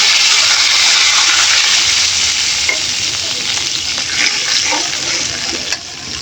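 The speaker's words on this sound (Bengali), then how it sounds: "এখন দিয়ে দিব একটু পানি।" Water added to a hot pan of fried onion, black cumin and oil gives a loud, continuous sizzling hiss that holds steady and eases slightly toward the end.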